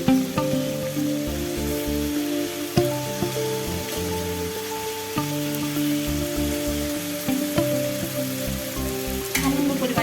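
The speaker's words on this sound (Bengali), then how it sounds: "টমেটোটা দিয়ে দিচ্ছি।" Chopped tomato goes into hot oil in a pan while cooking a small bele fish chorchori, giving a continuous soft sizzle that sits beneath steady rhythmic background music.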